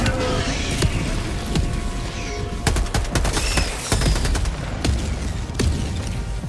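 Orbital barrage striking in Helldivers 2: dense, loud rolling explosions and sharp blasts layered over constant crackling gunfire, a continuous battle wash with a voice faintly mixed in.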